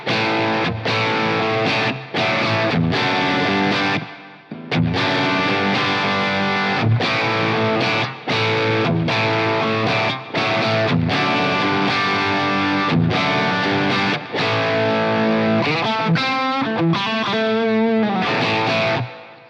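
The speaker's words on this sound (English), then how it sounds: "let's hear how it sounds with an overdrive pedal in the front end" Overdriven electric guitar through an AMS Twister 5 small amp with an Analog Man overdrive pedal, chords strummed in short bursts with brief gaps, then a run of quicker notes near the end; loud and sustained.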